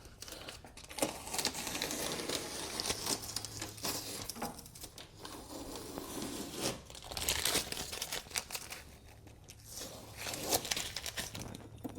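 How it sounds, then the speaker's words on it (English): Masking tape is peeled off a Nissan S15 Silvia headlight, producing close crinkling, crackling and tearing bursts in uneven spurts, with brief pauses between pulls. "So let's take off all this tape."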